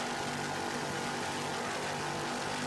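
Offshore racing powerboat engine at the Montauk Offshore Challenge in 1993, a constant loud droning roar with steady tonal hum and no pauses, filling the whole stretch.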